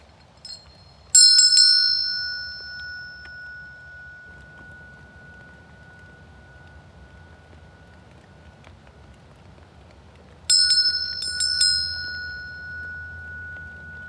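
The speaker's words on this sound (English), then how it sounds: "every time we hear the bell of mindfulness" A bell of mindfulness is struck twice, about nine seconds apart, each strike ringing out clear and loud before fading into a long, shimmering decay over a quiet room.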